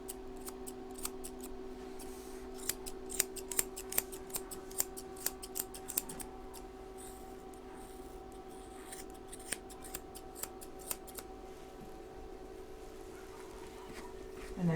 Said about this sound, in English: So we pull it all down and I trim it off right flat with the bottom of the foot.